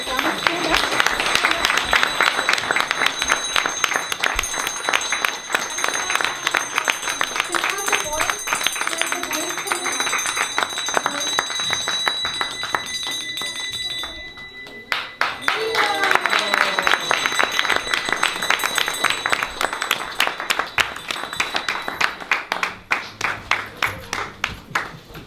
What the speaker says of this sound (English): let's give the children a round of applause